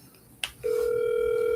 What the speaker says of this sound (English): Let's see if Ron answers the phone